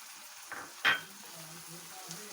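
Tomato paste and yogurt frying with spices for handi kabab: a faint low sizzle with one sharp metallic clink of a spoon against the pot, close, quiet between strokes, no voices.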